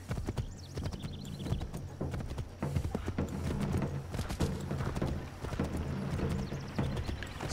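Hooves of a ridden horse in Assassin's Creed III Remastered clip-clop at a steady trotting pace, close and continuous, with busy game ambience underneath.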